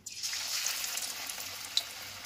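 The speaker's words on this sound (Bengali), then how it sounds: "তেল গরম হয়ে গেছে, তেলের উপরে ছেড়ে দেবো" Cabbage patties go into hot oil in a pan, a sudden sizzle rising at once and holding as a steady close frying hiss, with one small pop near the end.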